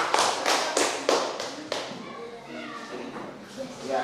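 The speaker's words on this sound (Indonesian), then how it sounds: "Tepuk tangan untuk kelompok 3." A class of children claps hands for a student group presenting its work, a burst of sharp, fairly close claps in the first half that fades out as children's voices and movement carry on.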